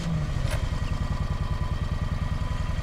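A lawn mower engine runs close by with a fast, even chugging pulse and a steady low rumble, with a brief clatter near the start.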